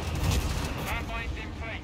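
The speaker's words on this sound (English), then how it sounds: "Under enemy fire!" Enemy gunfire in the World War II strategy game Company of Heroes 3: a dense, continuous crackle of rifle and machine-gun fire with heavy booms, mixed under in-game voice callouts.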